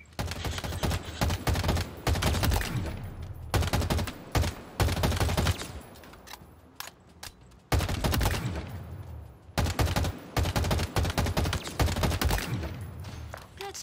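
Repeated live-round gunfire at a Halo Infinite practice range, with rapid bursts of shots in clustered volleys separated by short pauses, fairly loud and alone with no talk over it.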